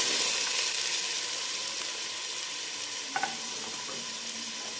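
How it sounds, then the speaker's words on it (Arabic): Chopped onion frying in a little oil in a pan, a steady bright sizzle and crackle throughout, with a couple of small clinks near the end. "وغادي نقليها مزيان."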